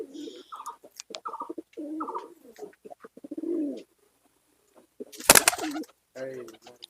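Andhra pigeons coo in repeated low throaty phrases close by, with a brief loud burst of noise midway and someone speaking at times.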